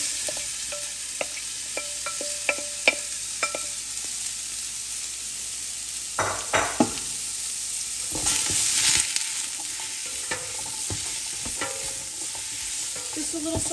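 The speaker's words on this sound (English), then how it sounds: "we're gonna add our vegetables to sweat and saute them out" Mixed vegetables sweating and sauteing in olive oil in a stock pot for chicken soup, a soft continuous sizzle with scattered spatula taps and clatters, then a louder burst of stirring and scraping partway through.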